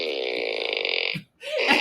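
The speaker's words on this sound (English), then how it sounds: "So now the farting sound effect." A fart sound effect: a long buzzing, raspy blat lasting about a second, followed by a short gap and a second brief sputter.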